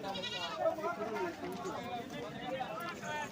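Goats bleat amid a busy livestock market at Surewala near Harike, Punjab, with the animal calls mixed under steady nearby conversation from traders.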